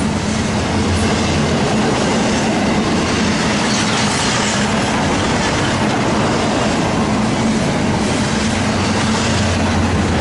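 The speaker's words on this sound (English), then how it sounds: "I think this may be a Q train." A freight Q train with a rear DPU rolls past at Daggett, a loud, close, continuous roar of wheels and rails with a steady low hum and faint clatter, without talk.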